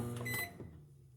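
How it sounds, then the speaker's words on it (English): A microwave oven runs in a kitchen for a short stretch, with a steady low hum and whir that fades and settles toward the end, alone without talk. "So we're going to put it in the microwave."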